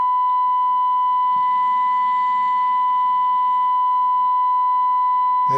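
A steady, loud sine-wave tone from a Grundig 2147 radio under FM alignment, a pure constant pitch with a faint low hum beneath, holding unchanged for several seconds before cutting off.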